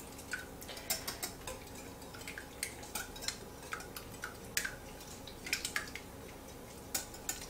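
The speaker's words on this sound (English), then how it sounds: "I'm just gonna whisk this together until we break up all the egg yolks." Eggs whisked in a bowl for a breakfast biscuit braid with bacon, heard as rapid, regular clicking taps of the whisk against the bowl, fairly quiet and steady with no talking.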